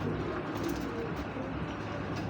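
A male Iranian racer pigeon coos in low, soft, rolling calls close by, set against a steady background rumble.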